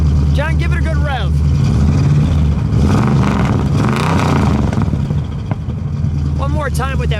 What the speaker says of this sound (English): John, give it a good rev.